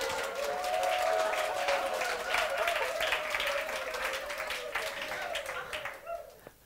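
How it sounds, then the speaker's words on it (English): An audience bursts into sustained applause that swells and then fades over several seconds, while a speaker's voice carries on over the clapping. "Wow, you're clapping, sir."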